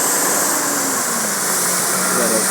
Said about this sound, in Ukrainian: Тут ще їде трактор з піском